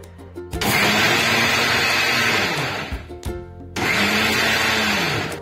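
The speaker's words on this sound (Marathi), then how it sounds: "आता मी हे मिश्रण सुकंच वाटून घेते आहे मिक्सरवर" A mixer grinder grinds a dry spice mixture with jaggery and salt in two loud, close bursts of high whirring, each spinning down briefly before the motor starts again, with no speech.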